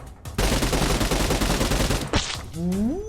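Gunfire in the video game PUBG Mobile, a loud, dense burst of rapid automatic shots lasting nearly two seconds, followed by a sharp single crack and a rising whine.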